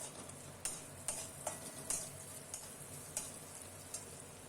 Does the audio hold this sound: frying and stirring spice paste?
yes